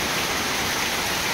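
Steady rain falling on surfaces outside a house in Odisha, a dense even hiss of drops with no voices, close and constant for the brief moment.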